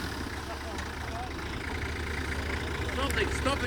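A 4-wheel-drive vehicle engine labours steadily on a serpentine off-road track as the driver tries to change gears, a continuous mid-low rumble with faint voices in the background.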